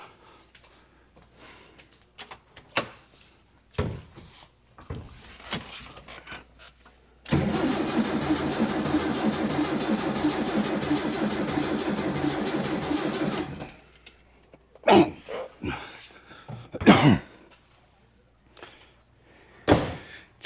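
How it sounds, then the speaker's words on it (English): A 1966 VW Fastback engine cranking without catching, a continuous rhythmic starter churn lasting about six seconds, with scattered clicks and knocks before and after in a quiet garage. "seriously cranking like there's no spark"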